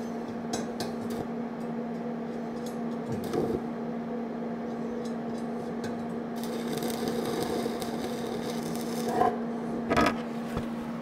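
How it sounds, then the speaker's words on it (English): Stick welding on thin square steel tubing with a new welding machine, steady crackling buzz throughout with a few louder pops and a burst of harsher sizzle near the end, where the weld burns through. "And so you just started welding and this happens."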